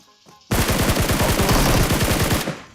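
Automatic gunfire in the mobile battle game PUBG Mobile bursts in after a quiet half-second: a loud, rapid rattle of shots for about two seconds, close and dense, then cuts off.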